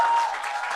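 Audience applause at a lecture, a steady wash of clapping from a crowd filling the whole moment without a break.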